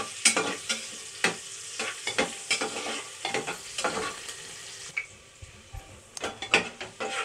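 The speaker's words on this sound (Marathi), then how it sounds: "चांगलं तांबूस होईपर्यंत परतून घेते." Onion fries in a pan until browned, the base for a rustic black mutton curry: a low sizzle under frequent, uneven scraping strokes and clacks of a spatula stirring against the pan.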